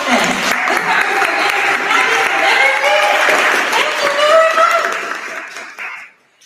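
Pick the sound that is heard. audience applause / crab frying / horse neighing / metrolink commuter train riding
audience applause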